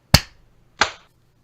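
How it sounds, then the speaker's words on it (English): A sharp, close hand clap for syncing a recording, followed after a short gap by a second, slightly softer clap in an otherwise quiet room. "We're going to do a sync clap, so it'll be 1, 2, 3 clap, all right?"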